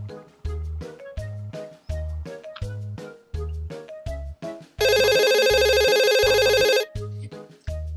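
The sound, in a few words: phone call ringing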